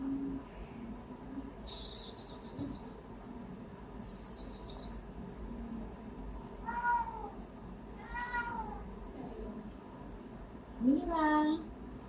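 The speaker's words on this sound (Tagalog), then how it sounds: "Aligaga yung pusa." A restless cat meows several times in short, separate calls, moderately loud and nearby, over steady room noise, with a couple of brief high hisses earlier.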